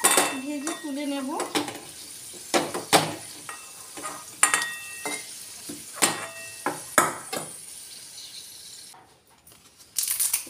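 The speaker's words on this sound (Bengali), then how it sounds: "এবার আলু ভেজে তুলে নেব।" Potato pieces frying in hot oil while a spatula scrapes and clinks against the pan in uneven strokes, close and moderate, with a soft sizzle between stirs and brief voice-like sounds early on.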